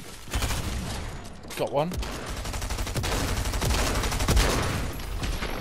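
A shotgun firing repeatedly in a video game, several sharp blasts in quick succession amid a busy fusillade, with a brief spoken remark over the shooting.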